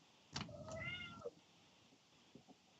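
A single drawn-out cat meow, fairly quiet and close, followed by a couple of faint soft clicks in a quiet room.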